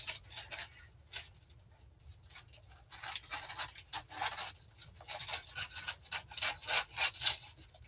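Dull old kitchen shears trim parchment paper in a home kitchen, a series of rasping snips and scraping drags, some brief and some longer, close and clear with no talking.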